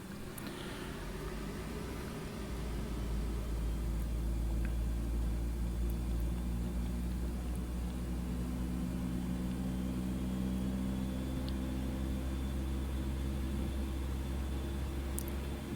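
Turbine engines of an AH-64 Apache helicopter spool up during start in MSFS 2024, a steady droning whine with a low rumbling hum that swells after a couple of seconds and then holds loud and constant, with no voices.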